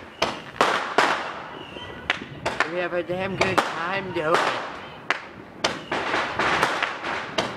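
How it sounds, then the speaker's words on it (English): Chinese fireworks at a Fourth of July celebration crack and pop in sharp, loud bursts, several spaced reports and rapid volleys, with people talking and exclaiming over them. "we celebrated by putting up Chinese fireworks"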